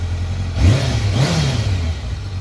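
A motorcycle engine revs up from a steady idle, rising in pitch for a short burst, then settling back before a second smaller rev, close and fairly loud with no talking.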